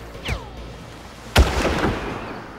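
Two gunshots ring out in the Far Cry video game: a quieter shot first, then a second, louder crack about a second later that trails off in a rumbling echo.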